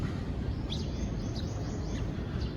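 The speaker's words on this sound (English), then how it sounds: "You hear birds chirping." Faint, scattered bird chirps from a distance over a steady outdoor background hum, near a small pond at the Greenbelt mall center in Makati.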